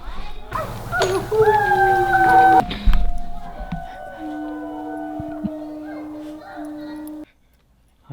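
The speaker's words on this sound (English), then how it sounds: "They're howling at the moon. Can you hear it down the hill?" Dogs howling at the moon down a hill, with long drawn-out wavering howls and whimpers rising and sliding for several seconds before fading to quiet.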